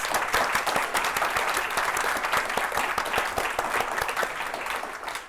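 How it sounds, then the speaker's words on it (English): An audience claps steadily for a speaker at the end of a startup talk, a dense, even applause that holds at full strength for about five seconds and then begins to fade. "So with that, I want to give Tracy a huge round of applause, and then we'll open up for Q&A."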